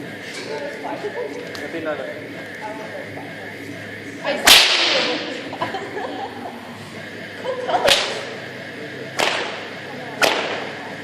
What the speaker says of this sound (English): Okay, Nick, this is my final whip